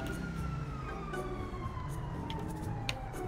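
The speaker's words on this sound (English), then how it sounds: "Oh, yeah, I do hear sirens." Police sirens in the GTA 5 video game, a steady wailing tone running through the whole stretch over a busy low rumble of in-game traffic, fairly distant and unbroken.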